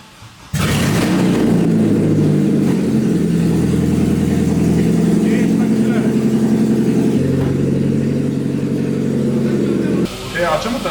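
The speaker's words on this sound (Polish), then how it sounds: "Uwaga, odpalam samochód po półrocznej przerwie." An Opel Calibra engine starts after sitting unused for half a year, catching abruptly and settling into a loud, steady idle close by. It cuts off near the end.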